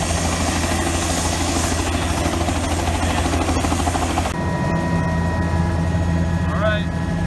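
Helicopter taking off for a flight from the Grand Canyon area near Havasupai, a loud, steady rotor and engine roar filling the scene throughout, with the tone shifting partway as it lifts off, while people talk underneath.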